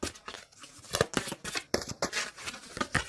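A deck of tarot cards is handled and shuffled up close in quick, uneven bursts of riffling, flicking and sliding, with no talking.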